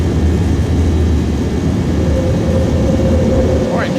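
An airliner climbs after takeoff in the X-Plane flight simulator, its engines giving off a steady, loud, droning roar with a low hum beneath it. Talk is heard over the noise.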